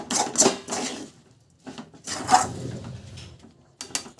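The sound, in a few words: mixing sesame seeds into jaggery for chikki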